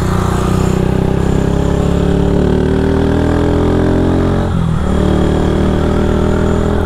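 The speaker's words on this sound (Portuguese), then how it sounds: "a moto é modificada" A modified Honda Start 160 motorcycle engine runs loudly and steadily up close, a continuous throbbing idle with slight rises in revs and a brief dip near the end, with no voices over it.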